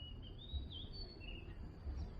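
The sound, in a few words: kingfisher call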